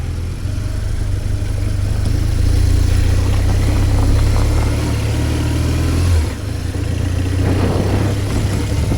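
Motorbikes ridden out on a morning explore from a moto camp, their engines droning loud and steady with a rising rev and a brief dip near the end.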